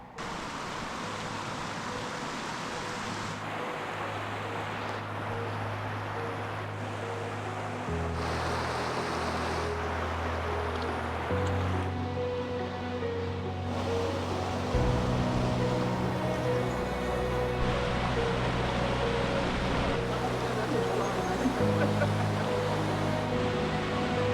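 Rushing water from a waterfall and rapids in the Scottish Highlands, a loud steady roar that shifts in tone as the position changes, with wind buffeting the microphone.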